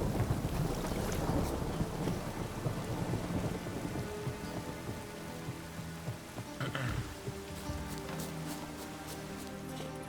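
Steady heavy rain with rolling thunder rumbling underneath, heard in the video game The Witcher 3, continuous and close with no talking.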